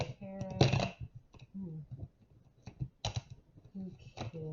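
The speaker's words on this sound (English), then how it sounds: "That was a horrible shuffle, guys." A deck of tarot cards is shuffled up close, making rapid riffling clicks and flutters in short irregular bursts, with a voice faintly heard in the background.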